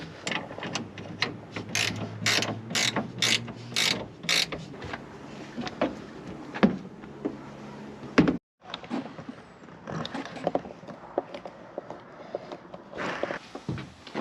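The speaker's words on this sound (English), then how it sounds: "We're supposed to be able to hear it click into place as we go." Bakflip tonneau truck bed cover being folded and latched, with a series of sharp mechanical ratchet clicks and creaks close by, several quick clicks early then scattered clunks and rattles.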